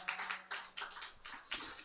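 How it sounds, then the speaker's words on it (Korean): Congregation clapping together in a church during a Friday prayer meeting, a dense burst of many hands that comes in several waves across a couple of seconds, moderately loud with no talking. "우리에게 말할 수 없는 즐거움으로 기쁨을 허락하신 하나님께 영광의 박수 올려드리겠습니다"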